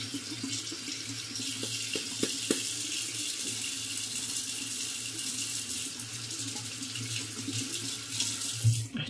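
A razor rinsed under a running tap in a sink, with steady water flow hissing continuously and close-up, a few faint clinks as the blade is rinsed.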